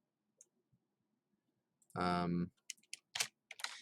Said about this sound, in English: I'm typing the name of the file